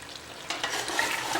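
Chicken curry masala for Kadaknath chicken roasting in an open pan, a soft steady sizzle with light stirring scrapes that grows a little louder halfway through, close and alone with no talking.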